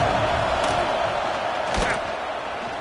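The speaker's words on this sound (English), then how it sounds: "This crowd bringing the energy and noise early." Stadium crowd roaring steadily through a Washington football game, a dense, loud wash of cheering that stays high throughout with no clear pauses.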